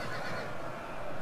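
Horses whinny and neigh amid the continuous roar of a cavalry-versus-cavalry battle in the video game Rome 2 Total War, steady and dense throughout with no voices.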